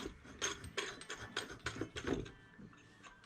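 A ratchet clicks as a heavy-duty adjustable graph mount base on a bass boat is locked, giving a quick series of about eight close, crisp clacks in an even rhythm with no voice.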